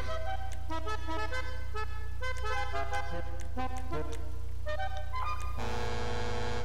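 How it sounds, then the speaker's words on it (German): A truck horn honks repeatedly in GTA Online, a series of loud, tonal blasts at shifting pitches like a played scale, ending in a sustained, buzzier horn note, with no talking over it. "LKW-Hupe."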